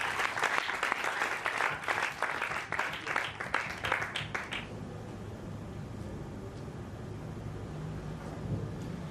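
A church congregation applauds loudly for a few seconds, dense clapping that stops abruptly, followed by quieter room noise and faint murmurs.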